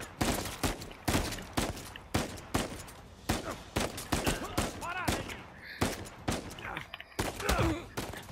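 Gunfire in the video game Uncharted 4: A Thief's End crackles in rapid, repeated bursts of loud sharp shots throughout, with a few brief vocal groans or cries mixed between the volleys.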